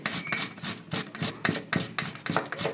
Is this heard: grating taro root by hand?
yes